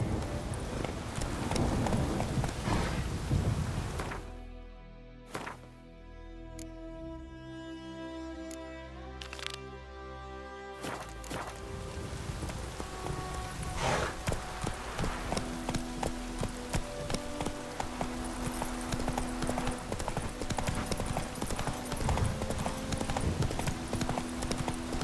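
Roach the horse gallops in The Witcher 3, a steady rapid clip-clop of hooves running continuously and close, with a brief lull and tonal music early on before the hoofbeats settle into a driving rhythm.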